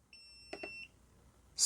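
KAIWEETS KM200s multimeter in continuity mode: a thin, high-pitched beep lasting under a second, overlapped by a couple of faint clicks from the probes, then a sudden loud hiss-like burst at the end.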